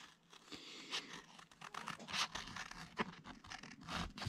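Scissors cut out an Action sticker on paper, giving soft close crinkling, snipping and scratching sounds in an irregular rhythm, quiet and without talking.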